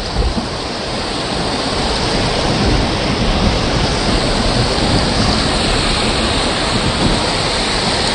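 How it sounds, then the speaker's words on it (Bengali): A car fords the Rishi river at Rishikhola on an off-road stretch, giving a steady, loud wash of rushing water and splashing with a low rumble that runs unbroken throughout, with no voices. "ঋষি নদীর ওপর দিয়ে গাড়িটা যাচ্ছে"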